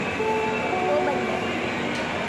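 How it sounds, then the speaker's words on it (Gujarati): Railway station ambience with a train, a steady low rumble and hum of rail noise under a busy background of voices and crowd murmur. "અત્યારે અમે રેલવે સ્ટેશન આવી ગયા છે"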